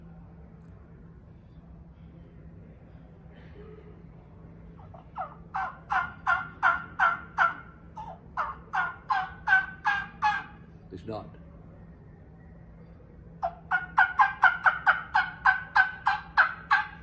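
A voice imitates a turkey gobble in several rapid, rattling bursts, separated by pauses, against a quiet low hum.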